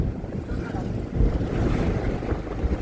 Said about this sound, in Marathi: गोदावरी पाणी सोडलेलं आहे तिला तर पूर आलेला आहे पण इतका जास्त नाही